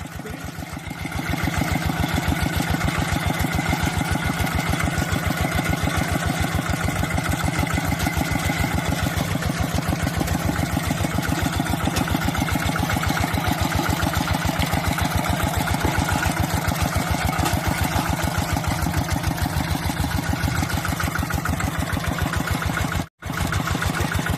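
A walking tractor plows a wet paddy field, its single-cylinder engine chugging in a fast, steady, loud beat that builds up at the start and holds steady, then cuts out for an instant near the end, with no talking.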